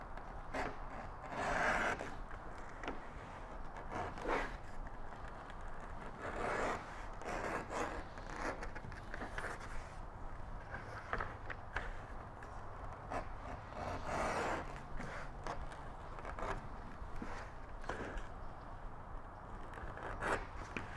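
A leather edge beveler scrapes along the edges of a shoulder-rig holster in a long run of short, dry rasping strokes, faint and close, with small pauses as the work is turned.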